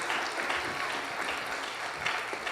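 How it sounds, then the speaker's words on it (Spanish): A church congregation applauds the Lord with continuous clapping that sounds somewhat distant and soft, a brief sustained burst without speech. "Dele ese aplauso más fuerte al Señor"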